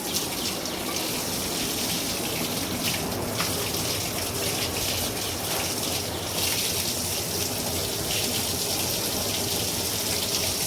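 A hose pipe sprays water while cows are washed on a farm, making a continuous loud gushing hiss that stays even from start to finish, with no voices.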